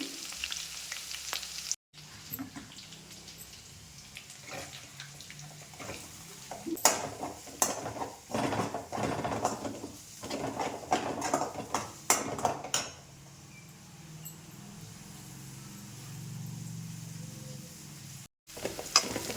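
Onions sizzle steadily in hot oil with cumin, green chilli and garlic for a masala pasta. Intermittent scraping and clinks of a spoon against the pan sound close over the constant frying hiss.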